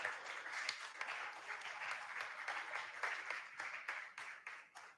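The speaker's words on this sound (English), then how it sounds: "please, a round of applause for them." An audience at a school quiz competition applauds steadily, a faint, continuous patter of many hands clapping with no voices.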